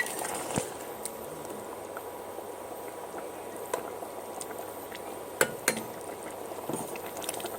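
Potatoes simmer in a covered pan as a low, steady bubbling hiss, quiet and continuous, with a few sharp clinks of lid or utensil scattered through.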